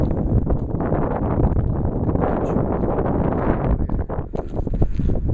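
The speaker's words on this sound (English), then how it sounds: "It's very windy." Loud gusty wind buffets the microphone, producing heavy low rumbling bursts that rise and fall unevenly across the whole clip.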